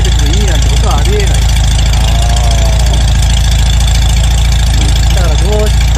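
Volkswagen Karmann Ghia carburetor engine idling with fast-idle raised, a loud, steady, close rumble with constant pulsing throb, a voice talking intermittently over it.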